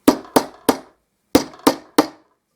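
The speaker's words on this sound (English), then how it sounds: "and then just tap them in" A hammer taps letter plates into cabinet furniture: six crisp, ringing knocks, three in quick succession, a pause, then three more, close and loud with short decays.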